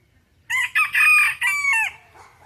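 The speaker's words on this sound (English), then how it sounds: "I don't know if I'm gonna keep them, cause I don't know these bantams." A bantam chicken crows once, close and loud, in a drawn-out call of several connected notes lasting about a second and a half, then fades into quiet farm background with no voices.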